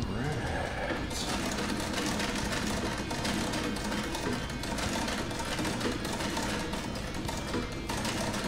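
A 1910 sewing machine stitching denim for a new pair of jeans runs in a steady, dense mechanical whir with close rapid needle rhythm, continuous and loud throughout.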